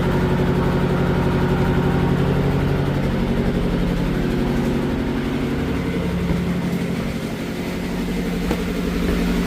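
A safari boat's engine in its engine room on the way to the Sundarbans runs at a steady, loud, close idle, a dense low rumble that holds throughout with no talking.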